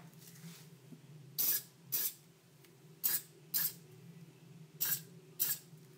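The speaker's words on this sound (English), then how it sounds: "it's a lot easier to use a spray lube than it is to use one that you have to actually apply by hand" Spray case lube hisses onto brass rifle cartridge cases for .223/5.56 reloading in six short sharp bursts, mostly in pairs, close and clear against a quiet low hum.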